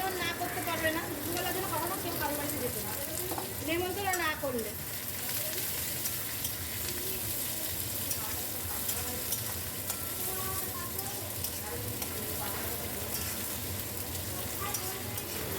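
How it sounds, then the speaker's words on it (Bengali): Onions sizzle in hot oil in a wok with bay leaf for Bengali chicken kosha, a steady frying hiss with stirring scrapes running throughout while a voice talks over it. "একটুখানি লাল করে ভেজে নিতে হবে পেঁয়াজগুলো"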